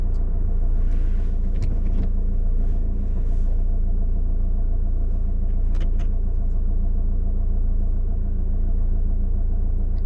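A learner driver's car pulls away after parking, its engine a steady, close low rumble inside the cabin with a few faint clicks and knocks over the drone.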